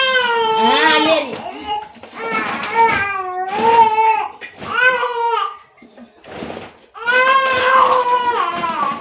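A young child crying loudly and close by, wailing in repeated drawn-out sobs separated by brief breaths and a short whimpering lull.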